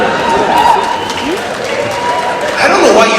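A stand-up comedy audience breaks into applause and cheering, a loud, dense clatter of clapping with whoops swelling again toward the end.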